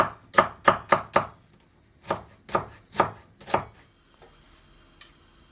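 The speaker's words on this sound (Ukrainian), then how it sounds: "Нарізаємо кубиками морковочку і слідком цибульку" Rapid knife strokes on a cutting board dicing carrots and onion: a quick run of four chops, then a slower series of firm single chops, close and clear.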